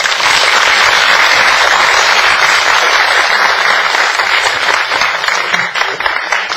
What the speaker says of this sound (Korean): 이 토크 잘 맞춰주신 우리 작가님들께 다시 한번 뜨거운 박수 부탁드리고요